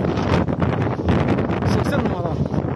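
Strong wind gusts across an outdoor amateur football match, buffeting the microphone in loud roaring bursts while a commentator talks over it.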